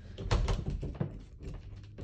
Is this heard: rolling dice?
no